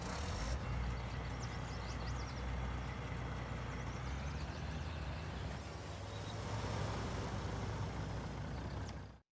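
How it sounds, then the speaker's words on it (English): A vehicle engine runs steadily in Farming Simulator 19, a deep continuous rumble holding at an even level for the whole stretch, with no talking over it. "Start the engine, right."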